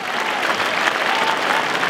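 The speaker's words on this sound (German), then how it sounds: "Herzlichen Applaus an Markus." Audience applause at a Swiss Sännechilbi goat auction, a thick burst of crowd clapping for the winning bidder of the billy goat, loud and continuous through the short span.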